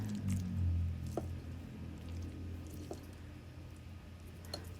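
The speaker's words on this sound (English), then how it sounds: "Just trying to get all the noodles coated as best you can." Egg noodles stirred through the liquid of a tuna casserole give soft, wet squishing and a few faint drips, close and quiet, with a steady low hum behind them.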